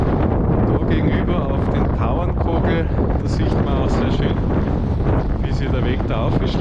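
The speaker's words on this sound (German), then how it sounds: "Auch hier geht der Wind." Strong wind roars across a mountain summit in the Austrian Alps, buffeting the microphone in a loud, constant gusty rush that dominates throughout.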